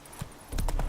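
Roach the horse's hooves clopping in The Witcher 3, a few soft steps then a louder run of close, rhythmic hoofbeats over a steady ambient bed.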